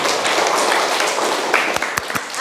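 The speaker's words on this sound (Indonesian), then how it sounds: "Kita berikan aplaus untuk temanmu" Classroom students applauding a classmate, a dense burst of many hands clapping close by that fills the whole moment, with a few sharper individual claps standing out near the end.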